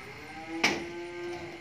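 An F1 Sind mother cow being loaded onto a delivery truck gives a single loud, close moo with a short rising burst, then a held tone, with no talk over it.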